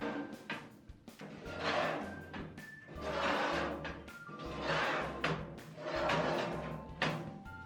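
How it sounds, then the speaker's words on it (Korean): A steel IKEA HELMER drawer is pushed along its metal rails into the cabinet, giving several close, rumbling scrape-and-slide strokes with brief pauses between them. "서랍을 레일홈에 끼워서 양쪽을 다 끼워서 밀어 넣어 주시면 됩니다."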